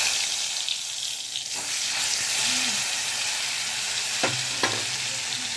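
Pointed gourd peel paste, ground with dried red chilli, two garlic cloves, turmeric and salt, frying in hot mustard oil: a steady, close broadband sizzle with a few clinks of a utensil, and no talking.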